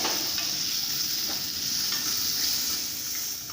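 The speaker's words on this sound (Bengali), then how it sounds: "এটাকে একটু ভেজে নেব ভালো করে।" Prawns sizzle and fry steadily in a hot pan while being stirred, a soft continuous crackle with faint scraping, no voices.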